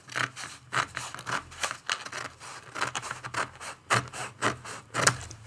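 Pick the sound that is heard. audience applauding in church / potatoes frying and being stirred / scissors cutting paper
scissors cutting paper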